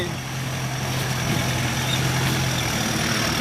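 A heavy dump truck engine laboring steadily to push up a slippery hill, a loud, constant low drone with a faint high whine and no talk.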